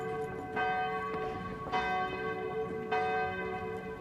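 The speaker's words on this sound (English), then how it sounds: "Church bells rang, mass was held, and prayers were said." Church bells ring during a 1994 Louisiana D-Day anniversary celebration, with three evenly spaced clangs from a distance, each decaying slowly under a faint ringing hum.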